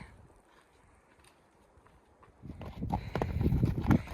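Horse hooves clip-clop on a Yosemite National Park trail, quiet at first, then growing louder and closer as the steady walking rhythm builds.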